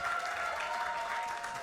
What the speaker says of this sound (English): Mr. Ali Gulbir, Mr. Danish Ali, big round of applause,